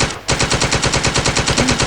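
A loud burst of rapid automatic gunfire in the video game Ocean Is Home, after a brief pause, the shots coming in an even, fast stream that continues to the end.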